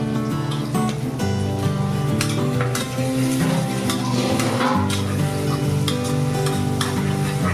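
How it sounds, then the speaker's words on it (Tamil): Onions sautéing in a pan for ghee rice give a steady, loud sizzle throughout, with repeated scraping and clinks of a spoon stirring against the pan. "நல்லா வதங்கட்டும் வெங்காயம்."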